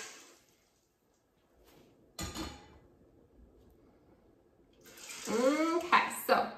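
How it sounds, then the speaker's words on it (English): Water pours onto black beans in an Instant Pot in bursts, a splashing gush that rises in pitch as the pot fills, with quiet gaps between pours. "We're gonna add our 6 cups of water."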